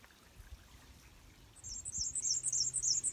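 A high, thin black-and-white warbler song of rapid squeaky repeated notes starts partway through and continues steadily over a quiet outdoor background.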